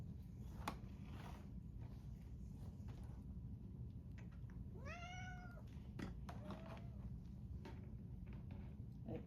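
A house cat gives one clear, drawn-out meow near the middle, then a shorter, quieter meow, both faint over a steady low background hum.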